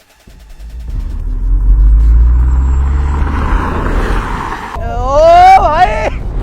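A car driven flat out at full throttle: a loud, close engine roar swells and holds steady, with a brief higher-pitched voice or whine rising over it near the end.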